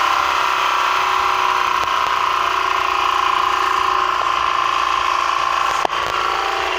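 A generator engine runs in a steady, continuous drone at close range, with a brief click near the end and no talking.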